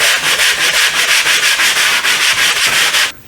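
Rhythmic back-and-forth strokes of sandpaper rasp across a drywall patch by hand, loud and close, about a dozen even passes before stopping.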